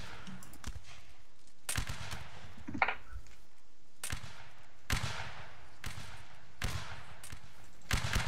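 Gunfire in a video game battle, with loud repeated bursts of shots recurring roughly every second or so, some sharp single cracks between them, over a steady background of game ambience.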